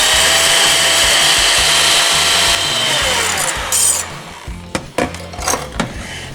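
A handheld frother whips pumpkin spice coffee with heavy whipping cream in a tall cup, a loud steady motor whir that stops partway through, followed by a few clunks and rattles.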